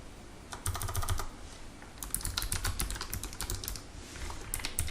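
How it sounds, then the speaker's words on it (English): Fingers typing on a computer keyboard, rapid bursts of close, crisp key clicks with brief pauses between runs. "so I'll go ahead and type up"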